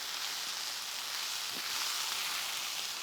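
Parsley, dill, cilantro and green onions cook down in a pan for green shakshuka, giving a steady, soft, even sizzle with no talking.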